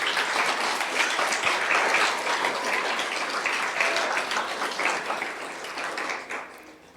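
A church congregation gives sustained applause, a dense wash of many hands clapping that stays fairly loud throughout and fades near the end.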